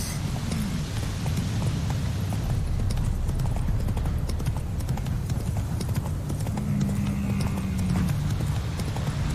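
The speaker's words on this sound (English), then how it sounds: "We can gallop without losing horse stamina" Horse galloping in The Witcher 3 video game, with continuous rapid hoofbeats drumming on the ground at a steady pace, joined by a brief low snort or whinny, faint talk underneath.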